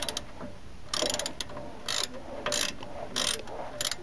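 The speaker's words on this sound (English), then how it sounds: "I'm going to use a 13 millimeter here, 13 millimeter socket on my ratchet" A ratchet with a 13 mm socket loosens a brake caliper bolt on a 2004 Jeep Wrangler, making several short, loud, close bursts of clicking separated by brief pauses.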